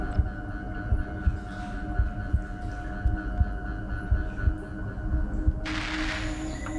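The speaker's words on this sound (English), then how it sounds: "my heartbeat sounds so much louder than it does" A heartbeat heard from inside a flotation tank: steady, muffled low thumps repeating about once a second under a constant hum, with a brief hiss near the end.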